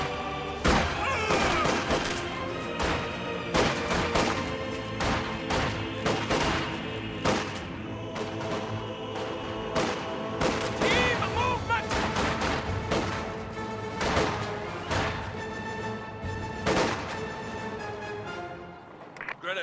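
Dense small arms fire from rifles and machine guns crackles through a Company of Heroes 2 battle, with sharp overlapping volleys and bursts over about twenty seconds, backed by steady combat rumble and occasional voiced unit callouts.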